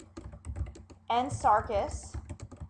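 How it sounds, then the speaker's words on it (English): Clicks of a computer keyboard rattle through a footnote being typed in a Word document, the taps light and quick, with a voice speaking over them partway through. "now what we want to do is we want to type the footnote."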